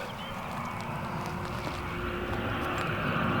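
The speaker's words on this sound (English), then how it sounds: "There's another plane." Airplane flying overhead, a steady broadband engine roar that slowly builds in loudness, heard outdoors at a dig site with no talking.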